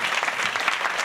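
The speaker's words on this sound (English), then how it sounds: "Clap your hands, everybody." Audience at a live comedy show breaks into dense, continuous applause, loud and close with many hands clapping at once for the whole stretch.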